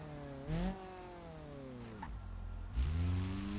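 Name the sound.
car engine revving in BeamNG video game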